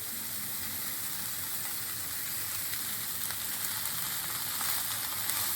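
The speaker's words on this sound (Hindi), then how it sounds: "अब इसके अंदर बंद गोभी शामिल कर रही हूँ, शामिल करने लगी हूँ।" Shredded cabbage sautés in a hot pan with other vegetables for chicken vegetable bread rolls, giving an even, soft sizzling hiss that holds steady throughout, with no talk.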